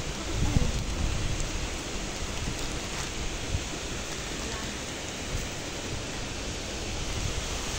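Steady rain pours down outdoors as a loud, dense hiss, with a voice briefly audible under it.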